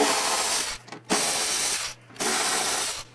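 A driver removes Torx 15 screws from the lid hinge on a motorcycle saddlebag, giving loud, close whirring bursts in three runs broken by two short pauses, with no talk.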